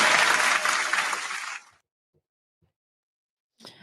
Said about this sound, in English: Everybody, give a round of applause to Dano.